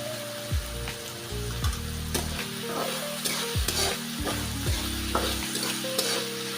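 Salted brinjal pieces sautéing in a pan give a close, busy sizzle, broken by repeated spatula stirs and scrapes in an uneven rhythm, with a low hum underneath.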